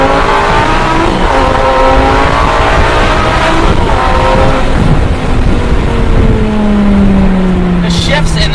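A Lamborghini Gallardo accelerates hard in first gear at night, and its engine note climbs steadily toward high revs. The sound is loud and close, heard from inside the car.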